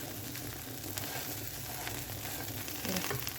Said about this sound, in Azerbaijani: Böyle koymuşum tavaya arkadaşım.